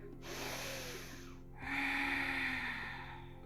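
Slow yoga breathing during an evening relaxation practice: one long, airy inhale, a brief pause, then a fuller, louder exhale, heard close and alone.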